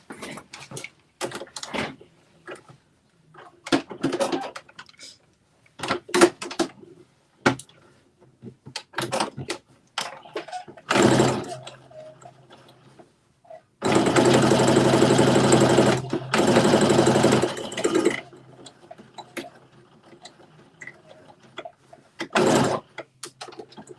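A sewing machine stitches a dart on a Simplicity S9822 garment in a few separate runs: short bursts early on, then two long steady stretches in the middle and a final brief burst, with quiet handling noises between them.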